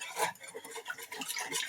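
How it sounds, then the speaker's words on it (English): Eggs beaten in a bowl for pumpkin pancake batter, with a brief run of soft, rapid clicking and scraping strokes, heard close and fairly quiet. "I'm going to whisk this together. I try to just kind of beat at the eggs first"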